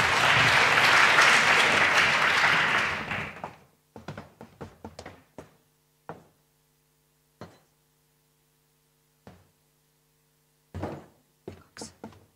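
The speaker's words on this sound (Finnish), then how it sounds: "Annetaan isot aplodit Maria-Kaisalle vielä." Loud audience applause fills the first few seconds, then fades out, leaving scattered knocks and thumps in a quiet room.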